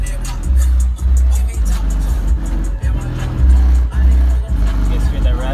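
Cheap $30 subwoofers thump heavy bass inside a car, loud pulsing low booms with rattling panels, and a voice talking over parts of it.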